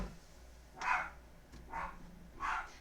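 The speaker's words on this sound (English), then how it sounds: "That's Marley's bark." Marley the dog barks three times, spaced out and at middle distance in a quiet room.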